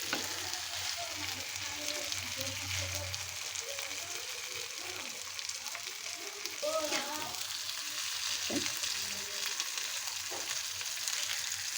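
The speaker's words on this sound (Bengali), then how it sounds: "আমি দিয়ে পাল্টিয়ে ভালো করে ভাজা ভাজা করে দিব" Spicy chicken fry sizzling steadily in a hot pan on a home stove, with occasional scrape-and-flip sounds as pieces are turned, continuous frying noise throughout and no talk.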